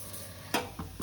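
Bitter gourd fry with turmeric and chili powder being stirred in a pan: three quick scraping strokes over a low, steady sizzle.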